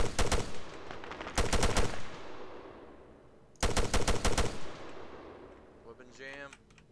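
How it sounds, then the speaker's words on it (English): Bursts of automatic gunfire in an ARMA 3 Vietnam War mod firefight in tall grass, two loud rapid volleys separated by quieter reverberant crackle and distant shots, ending with faint chattering noise. "we are taking fire right now"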